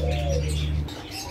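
A king pigeon, a breed nearly as large as a native chicken, gives a deep, close coo that lasts under a second before it fades into quiet room tone.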